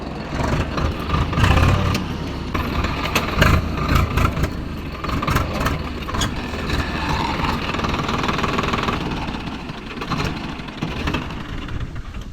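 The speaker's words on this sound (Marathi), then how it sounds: "फायनली खूप वेळानंतर ट्रॅक्टर निघालेलं आहे. बघू शकता किती स्ट्रगल केलेलं ट्रॅक्टरने." A Swaraj 855 FE tractor engine chugs and labors steadily nearby, its rumble rising in bursts as it strains to pull itself out of mud.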